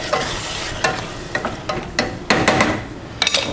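Octopus frying in a soffritto in a pan over high heat makes a steady loud sizzle, broken by repeated scraping and clattering stirs close by.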